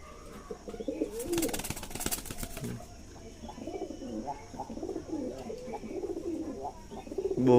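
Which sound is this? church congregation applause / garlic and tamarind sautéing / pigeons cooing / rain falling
pigeons cooing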